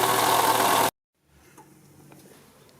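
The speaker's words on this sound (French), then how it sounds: "Et tu vas bien t'apercevoir que le problème, il vient bien de l'alternateur." A car engine running with an abnormal noise from a faulty alternator gives a loud, harsh, broadband drone for under a second, then cuts off abruptly. Faint, scattered mechanical sounds follow.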